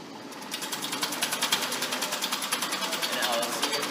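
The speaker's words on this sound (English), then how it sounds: "I will vary the motor speed" A motor on a two-degree-of-freedom forced vibration test rig starts up and runs with a fast, steady rhythmic pulsing, close and fairly loud, like a mechanical clatter repeating several times a second.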